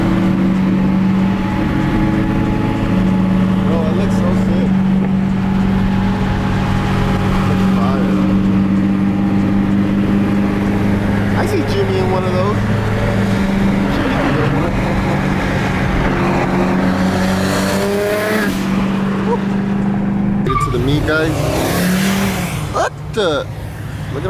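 Around thirty cars pull out together from a car meet, a dense, steady wash of engine and exhaust noise with occasional revs as vehicles move off, while people talk over it.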